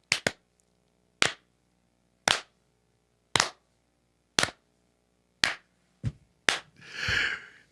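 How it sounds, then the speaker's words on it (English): A crowd gives a slow clap at a gathering, eight loud, evenly spaced single claps about a second apart that quicken slightly at the end and break into a brief burst of cheering and clapping. "Can we get one last slow clap from everybody?"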